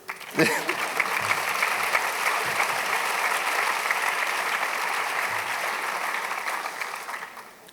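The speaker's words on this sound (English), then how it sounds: "Applaud." A graduation audience breaks into loud, sustained applause, a dense wash of clapping that holds steady for several seconds before tapering off.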